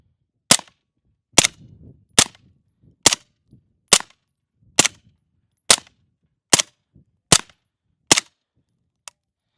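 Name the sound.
suppressed MP5K submachine gun firing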